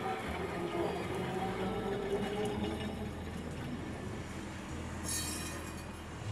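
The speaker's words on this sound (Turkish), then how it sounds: "Evet, işte bir adet 28 numaralı tramvay." A historic number 28 tram runs through Lisbon's narrow streets with a steady mechanical rumble and rattle, plus a brief high wheel squeal near the end, surrounded by street ambience.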